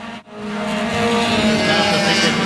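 Race cars at Oyster Bed Speedway roar in a loud, steady engine drone that holds throughout, with a brief dip near the start.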